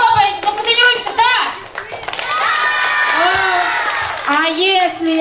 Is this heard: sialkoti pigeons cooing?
no